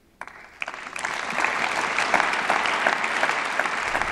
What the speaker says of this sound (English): Jean-Claude Juncker's plan is getting widespread approval and applause